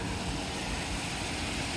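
Water pours down a backyard pool waterfall fixture, a steady broadband rushing splash heard close and continuous with no voices.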